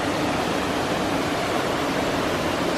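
Waterfalls in the Black Forest pour in a steady, dense rush of white water that stays close and loud throughout, with no voices over it.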